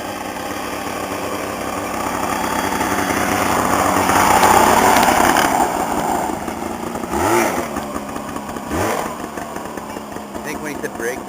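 Small lawn tractor engines revving and droning at a 2008 lawn tractor race, the loud whine swelling toward the middle and then easing, with spectators talking over it.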